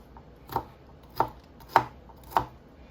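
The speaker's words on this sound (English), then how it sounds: "There's a bad spot right there, so I'm cutting it off." A knife chops through a pepper on a cutting board, cutting away a bad spot in four crisp, evenly spaced knocks about half a second apart, close and fairly quiet.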